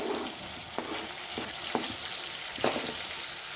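Thinly chopped onions hit hot oil with whole spices, cardamom, cinnamon, cloves and bay leaf, and fry in a steady close sizzle broken by a few stirring clinks.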